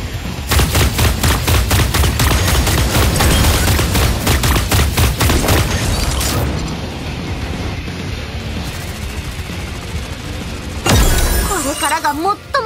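Rapid bursts of automatic gunfire in the video game Super Mecha Champions crackle loudly for several seconds, then fade to a quieter stretch before another sharp burst of shots near the end.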